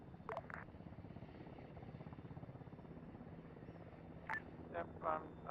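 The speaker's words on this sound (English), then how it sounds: "I will just start my helicopter." A helicopter in the video game Arma III starts up with a low, steady rhythmic rotor chop, while brief bursts of voice chatter come in over it.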